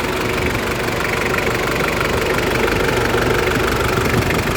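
A used vehicle offered for sale runs with its engine idling, a steady, close, continuous rumble with a slightly knocking texture throughout and no talking.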